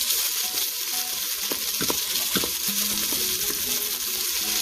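Carrots, onions and minced garlic sautéing in a Ninja Foodi pot, a loud, steady sizzle with scattered clicks and a few utensil taps, no voices.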